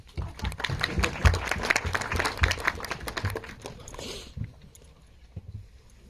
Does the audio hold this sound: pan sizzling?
no